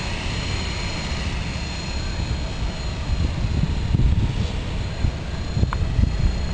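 A radio-controlled helicopter flies with a steady engine drone and whirring rotor noise throughout, with gusty wind rumble building toward the end.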